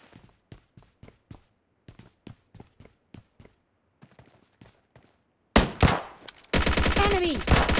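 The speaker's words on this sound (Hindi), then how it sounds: "तभी मुझे अंदर साइड से फायरिंग की आवाज़ आती।" Gunfire inside a building in the mobile game PUBG Mobile Lite: sharp single shots come in quick bursts with short gaps, then heavier dense automatic fire close by near the end.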